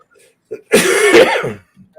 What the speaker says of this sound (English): I'm not able to mute my mic before I cough